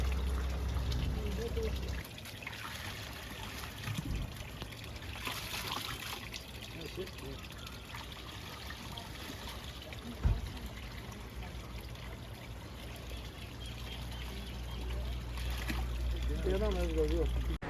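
Cold water from a mountain water supply along the road from Swat to Kohistan runs in a steady close trickle and splash throughout, with voices and occasional handling noises over it.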